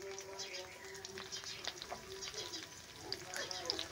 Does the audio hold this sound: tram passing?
no